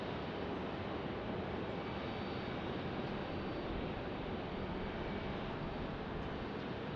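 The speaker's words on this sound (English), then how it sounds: "Haven't seen a 737 MAX in a bit. It's arriving in here." A Boeing 737 MAX airliner arriving at Phoenix Sky Harbor Airport, its engines a steady, broad roar that holds at an even loudness throughout, with no voices.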